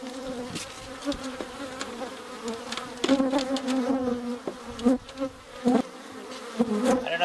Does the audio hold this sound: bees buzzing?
yes